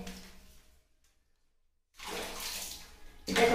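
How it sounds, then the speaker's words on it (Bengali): Tap water pours during a dog's bath, a steady running splash that cuts out for about a second, then returns louder and fuller, close by, with no talking over it. "গরম জল কুসুম কুসুম গরম জল সঙ্গে ঠান্ডা জল বাইর করে ওকে চান করাচ্ছি"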